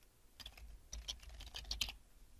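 Fingers tap quickly at a PC keyboard, a soft, close flurry of key clicks over a low background hum.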